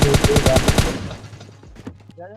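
Rapid burst of close, loud gunfire from an AWM sniper rifle and S12K shotgun in the mobile game PUBG Mobile Lite, dying away after about a second into a low hum with a few faint clicks.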